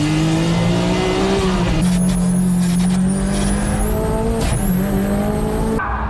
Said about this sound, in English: Okamura in the Yashio Factory S15 catches up within range to hunt down Tsuchiya's Nismo GT-R.